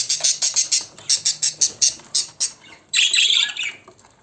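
Five young budgerigar chicks squawk in rapid rhythmic bursts, close by, followed by a louder, harsher chorus of squawking near the end.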